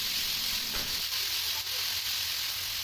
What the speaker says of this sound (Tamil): ஒரு தோசைக்கல்ல எண்ணெய் சேர்த்து எண்ணெய் சூடானதுமே நம்ம மசாலா கலந்து வச்சுருக்க கனவா மீனை இதில் ஆட்